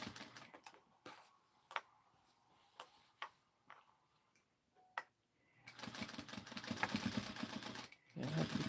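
A sewing machine stitches a knit sleeve, starting with sparse ticks and clicks as the fabric is positioned, then running in a steady, fast mechanical whir for a few seconds, pausing briefly and starting again.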